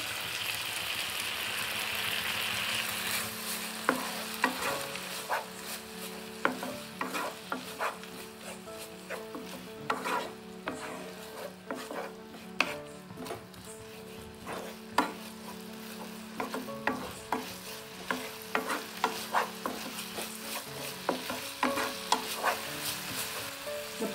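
Aval puttu with grated coconut is stirred in a pan, with a spoon scraping and knocking in an irregular rhythm over a faint sizzle, close-up and steady throughout.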